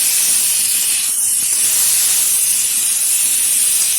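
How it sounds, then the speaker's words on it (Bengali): Chopped tomato and green chilies hit a hot pan and sizzle with a steady, loud hiss that holds evenly throughout, close by with no talking. "দিয়ে দিচ্ছি টুকরো করে রাখা একটা টমেটো আর 3টে কাঁচা লঙ্কা।"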